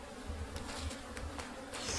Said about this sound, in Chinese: 今天是阴天啊，蜜蜂有点凶啊，一上来就被蛰了一下手